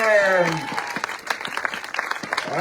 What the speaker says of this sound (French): Je vous demande un tonnerre d'applaudissements pour Louis Leduc